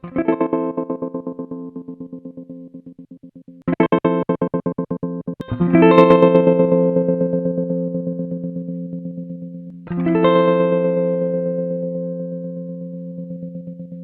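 A BOSS SL-2 Slicer pedal chops electric guitar chords into rapid rhythmic stutters, some notes ringing out sustained between the pulsing, gated bursts, with original and effected sound mixed.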